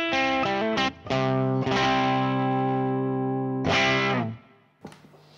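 An electric guitar played through a Universal Audio OX Box with speaker drive at 50% and no reverb: distorted sustained chords and single notes ringing out, a brief gap, then a final chord decaying into a short quiet pluck.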